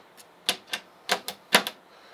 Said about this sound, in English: The door clicks in.